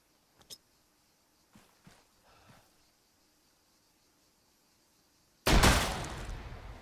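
Frag grenade detonating indoors inside a house in a shooter video game: after a few faint clicks and shuffles, one loud, sudden blast with a broad roaring burst that slowly decays over about a second, close and alone.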